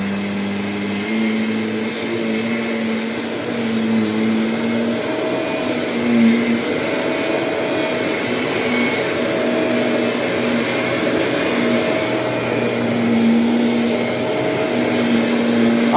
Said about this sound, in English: We may have a new vacuum cleaner king.